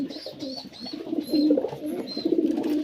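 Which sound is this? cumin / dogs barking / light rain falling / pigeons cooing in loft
pigeons cooing in loft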